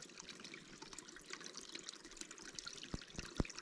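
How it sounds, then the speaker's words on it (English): Water trickles down a slope toward a river on the Olympic Peninsula near Potlatch, Washington, heard as a faint, continuous bubbling and dribbling outdoors, with a few soft knocks near the end and no talking. "Water running from somewhere."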